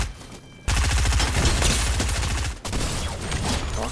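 Loud bursts of rapid automatic gunfire in the shooter game Arena Breakout break in after a brief quiet moment, continue densely, pause for an instant, then resume.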